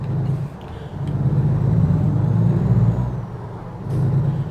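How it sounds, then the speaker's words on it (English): A heavy truck in American Truck Simulator rumbles steadily at low pitch while backing up, with a brief hiss near the end like an air brake release, and no talking. "Back the truck up."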